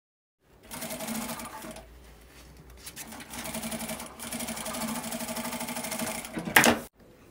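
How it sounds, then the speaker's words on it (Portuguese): A sewing machine stitches the fabric lining to the main piece of a small car trash bag, running in steady close bursts with a brief pause near the start and a sharp clack at the end. "antes mesmo de pespontar, eu passo essa costurinha de segurança"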